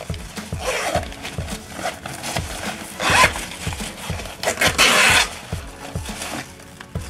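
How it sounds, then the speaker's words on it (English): A stiff zipper on a packing cube dragged open in repeated rasping pulls, a rhythmic series of harsh zipping strokes with two longer, louder tugs near the middle and end. "The zipper is really stiff on here."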